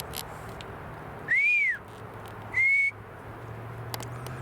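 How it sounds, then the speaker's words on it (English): Two short whistled tones from a person, each a clear rising-then-falling pitch about half a second long, separated by a pause over a quiet room hum. "I gotta do my whistle"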